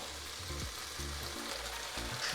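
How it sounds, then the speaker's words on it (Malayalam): Water poured into a chicken biryani pot, a steady broadband sizzling hiss with faint thumps and clinks, close and continuous. "തിളച്ച വെള്ളം ഒഴിക്കണം"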